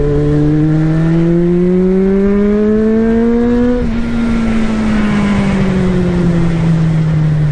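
A Kawasaki GPz550 motorcycle being brought back to life revs its engine up smoothly, peaks, then eases back down, loud and close with no voices.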